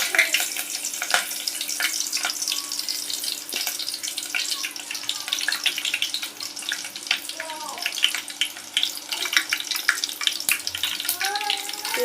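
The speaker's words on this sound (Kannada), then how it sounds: "ಈರುಳ್ಳಿ ಚೆನ್ನಾಗಿ ಫ್ರೈ ಆಗಲಿ." Onions frying in a tempering with curry leaves for an egg masala curry, giving a steady sizzle with stirring scrapes throughout, fairly close and continuous with no talk.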